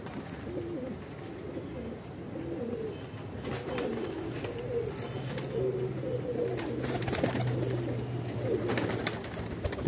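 Soft coos from Weshi, Kansani and Sialkoti pigeons repeat over a steady background murmur, with occasional flutters and brief chirps, fairly close and moderately quiet.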